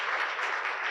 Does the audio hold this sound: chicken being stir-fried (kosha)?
no